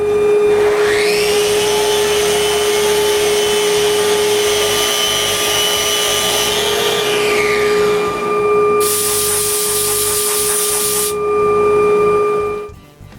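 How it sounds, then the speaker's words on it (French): A power sander whines loudly and continuously across the top of an engraved wooden bench, its pitch climbing as it spins up and then easing, with a hissing burst late before it winds down. "je sable le dessus"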